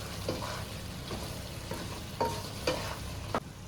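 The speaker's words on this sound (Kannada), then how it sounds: "ಗರಂ ಮಸಾಲ ಹಾಕಿ ಸ್ವಲ್ಪ ತಿರುಗಿಸ್ತಾರೆ" A spoon stirs Patiala chicken masala in a pan just after garam masala goes in, giving soft scraping strokes and a few sharper clinks over a low, steady sizzle.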